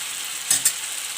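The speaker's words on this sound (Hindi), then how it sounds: "टमाटर की चटनी हमारी अच्छी तरीके से भून रही है।" Tomato chutney frying in a pan gives a steady soft hiss with two brief crackling bursts partway through, with no voices.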